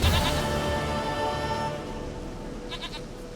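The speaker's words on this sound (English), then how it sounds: "Goat of mine, dearest, sweetest goat." A goat in The Witcher 3 gives one long, loud, wavering bleat that fades near the end, with faint higher bleats far off.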